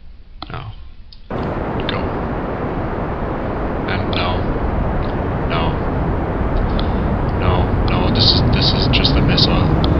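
Rocket launch in the video game Kerbal Space Program: a steady, loud roaring rumble starts abruptly and holds for the rest, with faint clicks over it and a voice talking at the start.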